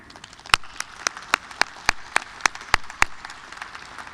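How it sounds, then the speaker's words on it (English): Scattered clapping from a graduation ceremony audience in Charlotte: a handful of distinct, sharp claps ring out at irregular intervals over a soft background patter. "I'd like to give her a round of applause to Sue Duran."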